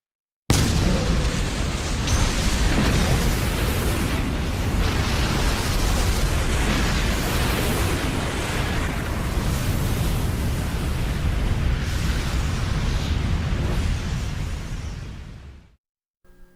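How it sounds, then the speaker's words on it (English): A bomb explosion sound effect: one huge, roaring blast that starts abruptly and rumbles on loud and dense for about fifteen seconds before cutting off. "And then, a bomb was set off."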